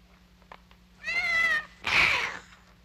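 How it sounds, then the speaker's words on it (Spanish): A cat meows twice in a quiet room, a near, clear first meow followed after a short pause by a louder, harsher second one, over faint low hum. "Nunca me ha querido ese gato."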